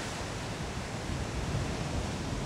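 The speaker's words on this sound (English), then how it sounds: "The soothing sounds of the ocean are so calming" Ocean waves wash continuously as a broad, steady hiss and rumble, with no distinct breaks or pauses, fairly loud and close throughout.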